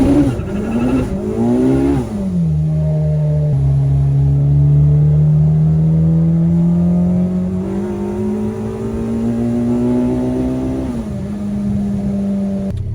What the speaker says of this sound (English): I'll do a little bit of burnout, and we'll see if we can actually check this thing